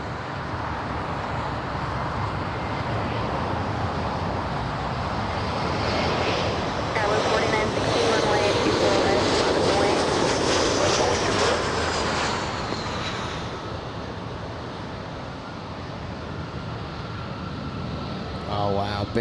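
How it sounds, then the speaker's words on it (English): A SkyWest Embraer E-175 airliner lands at LAX, its jet engine roar swelling as it passes nearby, peaking mid-way, then easing into a fainter steady rumble with a whining tone. "We have a mighty E-175 coming in"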